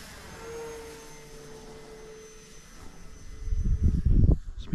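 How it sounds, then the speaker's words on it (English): A Turbo Timber EVO RC plane flies past at about half throttle, its electric motor whine holding steady and then swelling into a louder, rougher rush as it nears, with wind buffeting the onboard GoPro. "about half throttle with this turbo timber EVO. It's not a speedy plane, but it's definitely not a slow plane."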